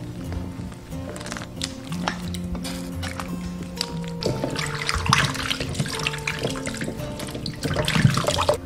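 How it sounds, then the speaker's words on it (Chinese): Blanched beef is rinsed clean under running tap water, with a steady splashing stream and irregular sloshing as the meat is handled in the sink, close and moderately loud. "我们捞起来给它清洗干净"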